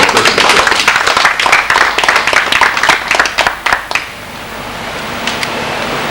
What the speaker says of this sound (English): welcome applause for the President.